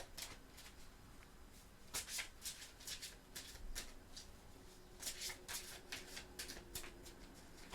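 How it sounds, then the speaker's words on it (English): Tarot cards riffled and drawn from a deck in a quiet room, several soft papery bursts of shuffling at a steady pace, close and fairly faint. "let's go ahead and pull a few more cards here"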